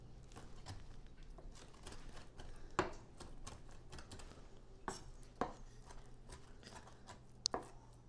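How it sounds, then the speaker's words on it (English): A knife chops shrimp on a cutting board for an eggplant stuffing with ginger and garlic, a soft steady patter of cuts under a faint background hum, with a few sharper knocks standing out. "Dylan just finishing cutting this up right now"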